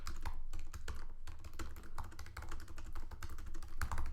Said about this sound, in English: If you see, I'm typing out loud